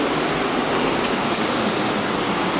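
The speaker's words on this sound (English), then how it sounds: "So you can hear the water, the water here." Rushing water of the Waterfall of Man in Côte d'Ivoire roars in a dense, constant wash of broadband noise, loud and close, with no pauses or voices over it.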